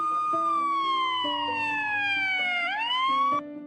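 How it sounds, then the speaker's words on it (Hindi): A police jeep's siren wails loudly and continuously, its pitch gliding slowly downward before rising again near the end, with a steady tone pattern underneath; no one speaks. "थोड़ी देर में पुलिस की जीप आई सायरन देती हुई।"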